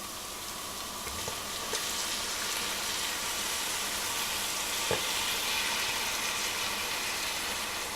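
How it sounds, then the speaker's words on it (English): Beef and onions sizzle loudly in a pan as beer is poured in. A dense, steady frying hiss runs throughout with a couple of faint clinks, and no one speaks. "Let's add the beer."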